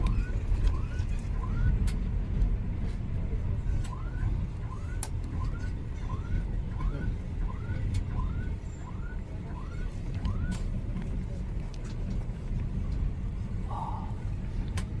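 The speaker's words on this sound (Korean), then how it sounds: "차고 오토바이고 엄청 많아가지고" Busy street traffic of cars and motorbikes in Ho Chi Minh City rumbles steadily, with a repeated series of short horn-like chirps and a brief higher tone near the end.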